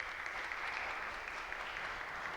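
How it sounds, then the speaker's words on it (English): Sustained applause from a conference audience at a tourism and hospitality technology event, a dense steady wash of many hands clapping, even and unbroken with no voices on top. "A big round of applause."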